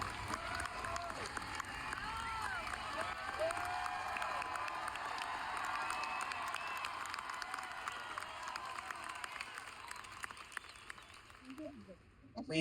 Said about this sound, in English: please applaud him and not me.